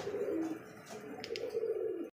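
Pigeons coo steadily at a pigeon farm, soft low throaty calls rolling on without pause, with a few faint higher chirps breaking in near the middle.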